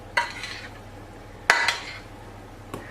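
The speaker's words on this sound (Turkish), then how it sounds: "Yine karıştırıyorum." A dish mixture with kaşar cheese and béchamel being stirred by hand, three distinct utensil scrapes and knocks against the container separated by quiet pauses, close and moderately soft, no speech.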